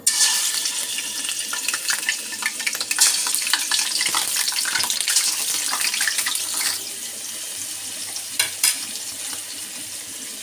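Poa fish sizzling as the pieces are laid into hot oil in a home kitchen pan, a loud continuous hiss and crackle with occasional sharper spatters, close up and without speech.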